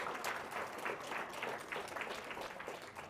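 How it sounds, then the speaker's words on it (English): Audience applause for competing middle school teams at a Battle of the Books event, a steady crowd clapping throughout at moderate distance, alone without talk. "Let's give them all a round of applause."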